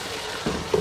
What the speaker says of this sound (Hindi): अब चनों को हमने अच्छी तरह भूनना है 1 से 2 मिनट के लिए